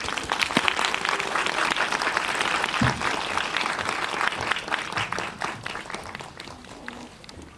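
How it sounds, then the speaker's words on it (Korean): Sustained audience applause fills a theater as an actress is welcomed onstage at a Korean film talk event, dense clapping throughout that slowly thins toward the end. "큰 박수로 환영해 주세요."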